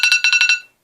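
A fire alarm sounds in a short burst of six rapid, bright electronic chirps, loud and close, then cuts off into silence.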